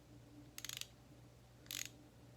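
A wrench ratchets in two short bursts of quick clicks, faint and close by, while a transmission bolt on a Scion xB is being torqued.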